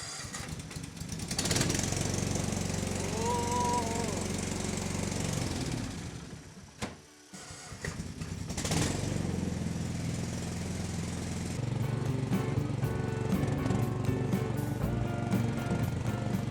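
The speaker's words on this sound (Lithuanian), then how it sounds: "Traktorius užsikūrė" A small tractor engine cranks, catches and settles into a steady running rumble at close range after a winter of standing, with a brief dip and restart midway.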